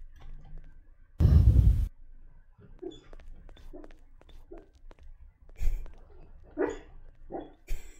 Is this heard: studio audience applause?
no